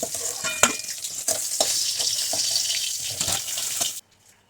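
Food starts frying in a pan, giving a loud, close sizzle with bursts of stirring clatter for about four seconds before cutting abruptly to near silence.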